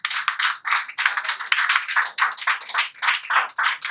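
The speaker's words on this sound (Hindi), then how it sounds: "बता दीजिए तालियां बजा के कि आप जाग रहे हैं" Audience clapping at an open mic poetry night in Indore, a dense run of many hands at fairly close range, continuous with small surges in loudness throughout.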